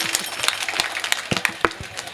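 A kirtan audience at an Akhand Harinam Saptah gathering in Khambale claps hands in a loose, uneven patter of sharp, close smacks, irregular rather than a full steady applause, with no talking.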